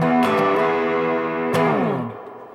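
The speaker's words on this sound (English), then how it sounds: "This is a basic distortion pedal with distortion, volume, and tone" A guitar runs through a basic distortion pedal: two loud, sustained, buzzing chords ring out in turn, the second bending and fading away, with no voices.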